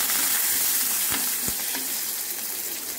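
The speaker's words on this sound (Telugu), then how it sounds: "వేసి పచ్చట్లో వేసి తాలింపు వేసాను." Crushed garlic, dry red chillies and curry leaves sizzle loudly in hot oil for a tempering, a dense, bright continuous crackle with a few short stirring knocks.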